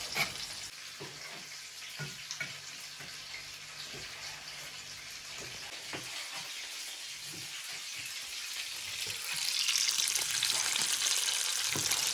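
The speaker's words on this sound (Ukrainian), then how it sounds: "І одразу на розігріту сковороду, щоб підсмажилось до золотистої скоринки." Chopped meat pieces fry in a heated pan for a bulgur dish with vegetables, giving a steady close sizzle with small crackles and occasional stirring, growing a little louder toward the end.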